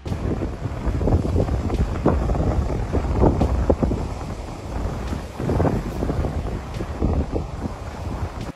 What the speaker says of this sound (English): 台风已经开始了